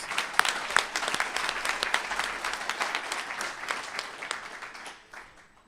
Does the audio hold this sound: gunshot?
no